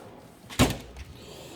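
A Snap-on tool box drawer slides open in one short, close rolling whoosh and thud, set against quiet room noise.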